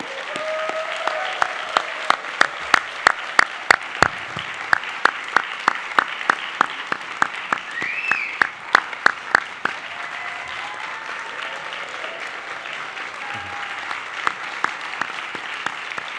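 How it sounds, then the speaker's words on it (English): Audience at a student heroes award ceremony applauding, with a dense bed of clapping and sharp, loud individual claps standing out near the front, tapering in the final seconds. "Please join me in giving our heroes one last heartfelt round of applause."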